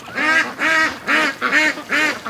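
Free-range ducks quack in five loud, close bursts at an even rhythm, each a harsh nasal call with a short gap between, heard alone without talk.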